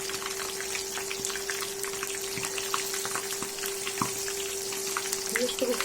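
Batter-coated apples sizzling and crackling steadily in a frying pan, close up, with scattered pops and a faint continuous hum underneath.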